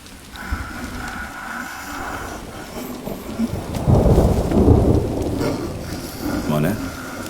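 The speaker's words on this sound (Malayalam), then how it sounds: "ശീലരക്കണ്ട, കാലം തെറ്റിയുള്ള മഴയാ" Untimely rain pours steadily while thunder rumbles and swells through the middle of the scene, close and loud, with people talking over the storm.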